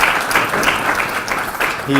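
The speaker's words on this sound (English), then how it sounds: "How about a round of applause for all the work that Brett has done here." Audience applause at a Milwaukee engineering research conference, a steady wash of many hands clapping that fills the room for about two seconds, with a voice briefly emerging near the end.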